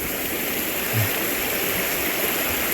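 A large waterfall roars in a steady, dense rush of falling water, loud and unbroken from start to finish.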